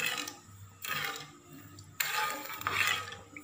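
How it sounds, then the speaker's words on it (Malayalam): A spoon stirs papaya pieces in boiling sugar water in a pot, giving soft scraping and bubbling bursts in a few uneven waves, close and fairly quiet with no talking. "നിളക്കി കൊടുക്കാം."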